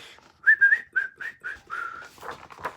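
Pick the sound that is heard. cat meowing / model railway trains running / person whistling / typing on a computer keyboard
person whistling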